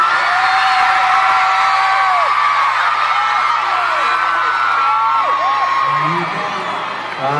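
Concert crowd cheering, whooping and screaming loudly at a Harry Styles pop show, a dense sustained roar with rising shrieks that fades slightly near the end.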